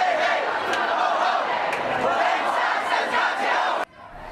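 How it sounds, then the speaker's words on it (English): Protesters disrupt a university session inside Emerson Hall. A loud, dense crowd of shouting and chanting voices roars continuously, then cuts off abruptly near the end. "That was the scene inside Emerson Hall when protesters disrupted the final session"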